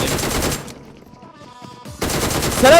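Rapid bursts of automatic gunfire in the mobile battle royale game PUBG Mobile, loud dense volleys at the start and end with a quieter gap between, no talk over it.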